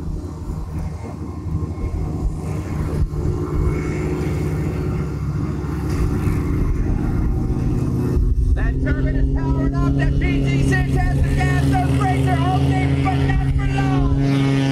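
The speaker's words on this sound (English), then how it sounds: "Turbine is powering up, that PT6 has the gas, those brakes are holding, but not for long." A PT6 turboprop engine spools up before takeoff with the brakes held, a loud rising turbine drone and whine building over several seconds with rotor harmonics, close by.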